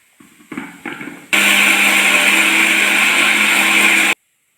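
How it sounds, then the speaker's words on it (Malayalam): A kitchen mixer grinder blends garlic, green chili and coriander for a Malayalam-style rasam, starting with a few short pulsed bursts and then running in one loud, steady whirring grind for about three seconds before it cuts off. "ഇനി നമുക്ക് ഇതെല്ലാം ഒന്ന് അരച്ചെടുക്കണം."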